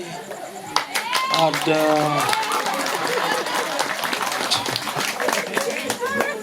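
Clapping and applause from a small group at a lively Balinese comedy gathering, steady patter of hands running throughout, with a voice and other talk mixed over it.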